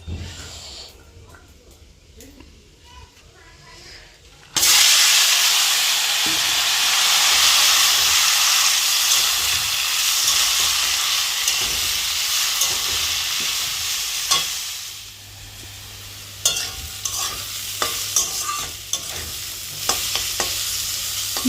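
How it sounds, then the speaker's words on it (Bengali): Chopped radish sizzles loudly in a little oil in a wok on a gas stove. After a quieter opening with clatter, the frying hiss bursts in and stays strong, with stirring scrapes and knocks toward the end. "গ্যাসের এই কড়াইটার মধ্যে একটুখানি তেল ছিল তাহলে এই তেলটাতে আর কি মূলাটা ভাজা হয়ে যাবে"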